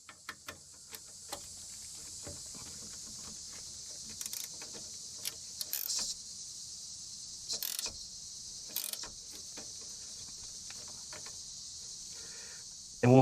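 A wrench slowly cranks loose a 6 mm sway bar link nut on a Toyota Highlander or Lexus RX330, sparse clicks and brief creaking ratchet sounds spaced out over a faint, quiet background.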